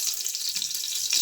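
Garlic sizzles in hot olive oil in a pan, a brief bright crackling hiss with faint clinks underneath.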